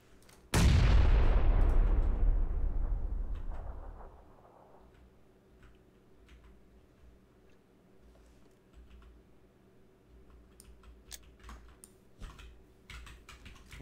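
A single heavy gunshot in PUBG booms loud and close, then its echo fades slowly over several seconds. Faint clicks and distant pops follow against a quiet backdrop.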